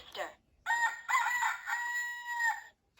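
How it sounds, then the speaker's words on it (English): A rooster crows once in a long, clear cock-a-doodle-doo close by, rising and holding before fading, preceded by a brief short call. "The rooster wakes the farmer in the morning."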